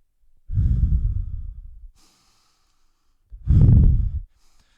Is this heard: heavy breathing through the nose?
yes